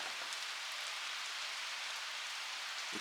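Rain falls steadily during a cycling trip through the Norwegian fjords between Molde and Ålesund, a soft, even hiss of drops that holds at constant level with nothing else over it.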